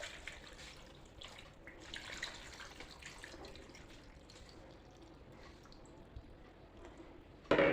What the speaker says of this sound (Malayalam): നമുക്കിതിലേക്ക് സെക്കൻഡ് പാൽ നമുക്ക് ഒഴിക്കാം